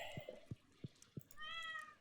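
A cat meows in the Stardew Valley farming game: a short run of soft, rhythmic in-game sounds ends in one clear, drawn-out meow near the close.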